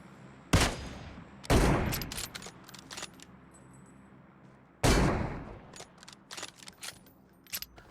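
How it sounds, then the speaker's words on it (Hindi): Gunfire in PUBG Mobile: a few loud, sharp shots ring out in bursts, with two quick blasts early and another after a pause, plus faint clicks and handling noises between them. "तो मैंने इसको एक शॉट लिया, नहीं कनेक्ट हुआ।"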